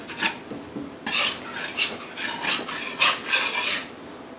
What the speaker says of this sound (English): I'm using a spatula to grab it